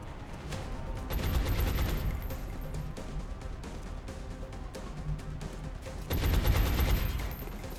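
Repeated gunfire bursts from a flank shot in the XCOM strategy game, loud rattling volleys running throughout with a heavier surge near the end.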